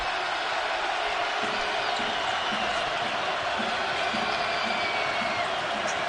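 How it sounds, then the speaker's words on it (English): A basketball arena crowd roars with steady noise after a 3-point play in an Arkansas vs LSU game at the PMAC, with a ball bouncing faintly on the court beneath the din. "the crowd is going nuts here at the PMAC"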